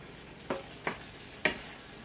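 Ground beef sizzling in a hot pan over a low, steady fry, with three quick scraping stir strokes close by and no voices.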